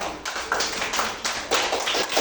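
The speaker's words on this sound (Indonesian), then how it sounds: "Tepuk tangan." Schoolchildren in a primary classroom clap their hands in a few quick rhythmic bursts, close and fairly loud, with no talking.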